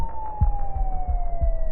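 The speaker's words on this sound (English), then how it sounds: "the distant sound of police sirens" A wailing police siren slowly falling in pitch, heard from a distance, with faint low thumps and rumble beneath it.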